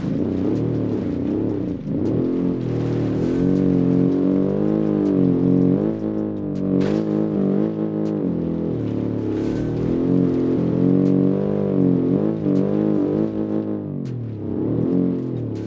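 Engine of a 1977 communist car driving in a car game, a steady mid-pitched drone that rises and falls as it revs and shifts, loud and close throughout.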